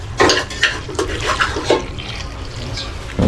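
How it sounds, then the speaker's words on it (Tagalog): Water is poured into a cooking pot for a vinegar-based paksiw stew, a few uneven splashing pours close by with the clatter of a pot, no talking. "Kaya lagyan natin kunti tubig."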